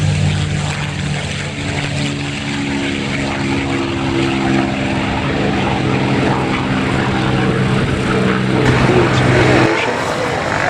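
A V12 piston-engined propeller warbird at the Duxford Flying Legends air display drones steadily overhead with a deep, sustained engine note, loud and continuous, while a commentator speaks throughout.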